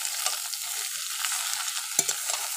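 Pointed gourd frying in oil with browned onion and nigella seeds, a steady close hiss of sizzling with occasional soft stirring knocks.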